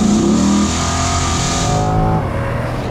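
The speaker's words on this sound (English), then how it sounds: "putting the engine right behind you is you can hear everything" Engine of a 2022 Chevrolet Corvette C8, mid-engined with the motor right behind the seats, heard loud from inside the cabin as it revs and settles, with a rising then falling engine tone and steady roar.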